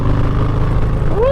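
A Harley-Davidson Low Rider ST engine rumbles loudly and close up with a low, throbbing note, and near the end a rising tone suggests the revs climbing.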